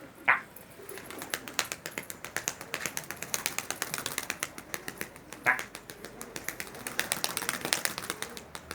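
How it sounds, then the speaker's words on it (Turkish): Pigeons flying as a flock, a rapid fluttering clatter of wingbeats that pulses steadily throughout, with a couple of louder wing bursts standing out, fairly close and without talk. "Uçar kuşlarını tanıttık. Şu anda uçuyorlar."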